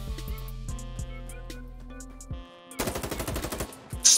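An M4A1 rifle fires in Insurgency Sandstorm: rapid, sharp shots at first, then echoing reports, then a dense burst of full-auto fire, loud and close.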